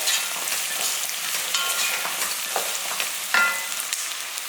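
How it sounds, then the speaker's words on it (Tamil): Rice sizzles steadily as it is sautéed in a pan with salt for fenugreek coconut milk rice, a continuous close frying hiss with occasional stirring scrapes. "ரொம்ப நேரம் வதக்கணும்னு அவசியம் இல்லை பாருங்கள் நான் பாதி அளவுக்கு தான் வதக்க போகிறேன்"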